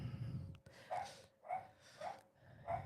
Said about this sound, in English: I'm sorry, my dog is going off now.